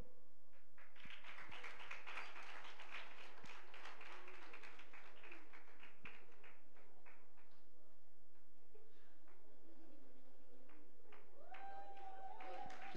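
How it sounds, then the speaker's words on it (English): Audience applause rises at a ceremony as cohort members come forward, a dense burst of clapping that builds over the first seconds and then thins and fades out, with some talk faintly underneath. "you can give a round of applause as they majestically move forward"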